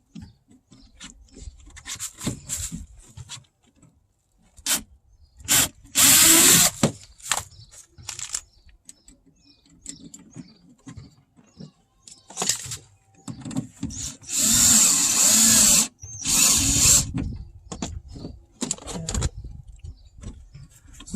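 Power drill driving a large screw into a 2009 Toyota Matrix door panel, heard as repeated short whirring bursts of varying length with pauses between, close and fairly loud.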